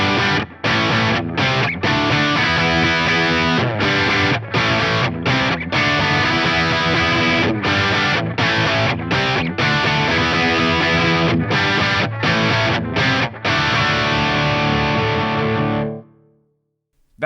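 Heavily distorted electric guitar from a Hamer Standard run through an Axe-Fx III on a Friedman BE V1 amp model, playing chunky chugging riffs with brief stops, loud and thick, ending in a ringing chord that fades out.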